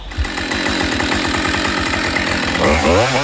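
A Husqvarna chainsaw runs loud and close, its engine buzzing steadily with a rapid pulsing chain rhythm and a short rise in revs near the end, with no voices.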